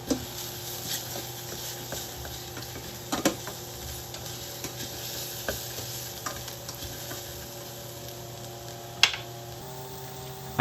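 Chicken and mushroom risotto stirred in a pan, with a soft steady sizzle and intermittent scrapes and taps of the spoon at an unhurried pace, close and fairly quiet.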